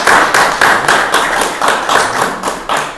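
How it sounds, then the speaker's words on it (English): Loud, close hand claps beat in a steady, even rhythm, roughly four per second for three seconds, like a small group clapping in unison at a gathering for a Rinpoche's visit. "we applaud you"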